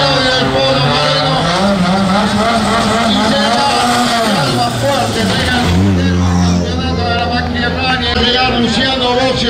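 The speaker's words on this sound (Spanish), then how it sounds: "se va Ariel Nicolás de este sector, nuevo auto en carrera" A rally car pulls away from a stage start at the Rally Cordobés in Bell Ville, its engine loud and close, climbing through gears under a continuous announcer's voice and crowd murmur.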